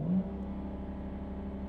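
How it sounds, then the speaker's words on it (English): A BMW N55 engine holds at the launch control rev limit with a steady, moderately loud drone and faint rhythmic pulsing, alone with no talk. "use your left foot on the brake and then mash the gas"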